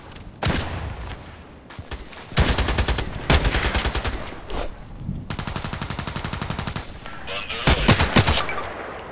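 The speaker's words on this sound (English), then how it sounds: "there were too many shots at once" Automatic and rapid gunfire from the online shooter game Contract Wars, loud and close, comes in several dense bursts of many shots with short pauses between them.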